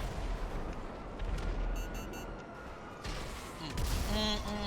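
Heavy booms and blasts in GTA V Online roll through a dense roar of battle noise around an Oppressor Mk II, ending in a louder crash of explosive impacts.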